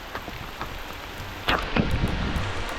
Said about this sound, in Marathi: आणि पाऊस हो लागा सुरुवात झाली